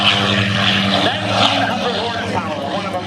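A Curtiss SB2C Helldiver, a 1,900-horsepower propeller aircraft, flies past at an air show with a loud, steady radial-engine drone and strong low harmonics that hold throughout, while an announcer talks over it.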